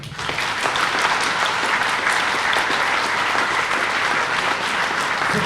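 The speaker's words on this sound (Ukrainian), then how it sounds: "Давайте подякуємо присутнім здесь військовим оплесками." A crowd at an outdoor Kharkiv city day celebration applauds soldiers, a steady, dense wash of clapping that holds evenly throughout with no voices on top.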